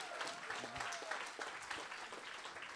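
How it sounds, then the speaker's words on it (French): Audience applause during a university charity relay opening ceremony, steady dense clapping throughout at moderate, fairly distant level with faint voices in the crowd. "Je sous vos applaudissements, s'il vous plaît, Monsieur Carlo Di Pasquale."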